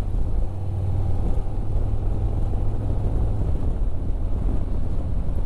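A Harley-Davidson Road Glide ST motorcycle on the move, with a steady low engine drone blended with heavy rushing wind noise throughout, no talking.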